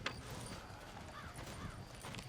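Horse hooves clip-clop steadily under a constant outdoor ambience in the Western video game Red Dead Redemption, a moderately near, even rhythm of hoof strikes running throughout with a brief whinny-like tone midway.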